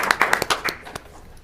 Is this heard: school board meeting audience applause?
yes